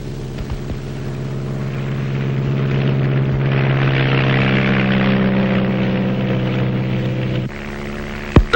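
Small propeller planes fly over rainforest, their engines droning loud and steady with a throbbing propeller tone that swells in the middle and then drops abruptly near the end.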